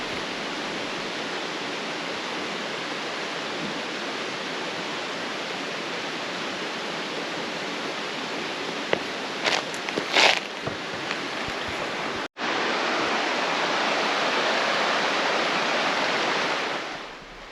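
Laurel Falls on the Appalachian Trail, a steady broadband rush of falling water heard close and loud, with a few brief knocks near the middle and a short dropout before the roar resumes.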